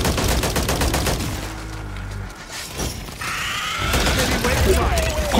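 A laser weapon fires at a boss in a shooter video game, with bursts of rapid crackling shots and metallic impact effects that run loud and continuous over a dense mix of game sound.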